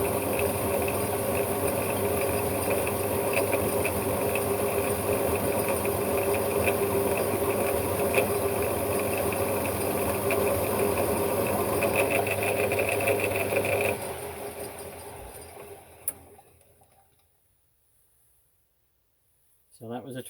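A metal lathe takes a cut while the main carriage is moved by hand, giving a steady close mechanical whir and rattle that runs for about fourteen seconds, then winds down and falls silent before a brief return of noise.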